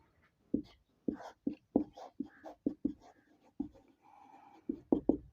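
A pen writes out the answer to a class 8 arithmetic sequence problem, producing quiet, rhythmic scratching strokes in short bursts with brief pauses, close up and without clear talk.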